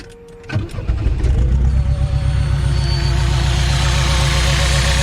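A supercharged Chevette engine cranks briefly, then fires and catches, settling into a loud, steady, close-up rumble with a faint whine running over it and no voices.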